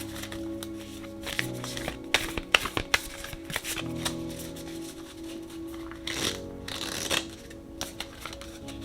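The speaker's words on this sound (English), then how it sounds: "Let's go ahead and shuffle." A deck of oracle cards being shuffled up close, with quick riffling bursts and soft slaps repeating over several seconds, no voices.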